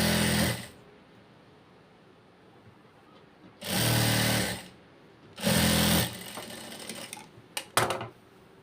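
Sewing machine stitching the lining edge of a blouse in three short bursts of rapid, loud mechanical whirring, with quiet pauses between and a few light clicks at the end.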